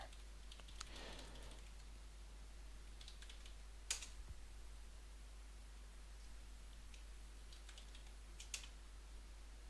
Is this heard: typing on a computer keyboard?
yes